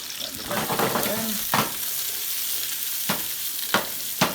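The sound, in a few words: sauteing vegetables in hot oil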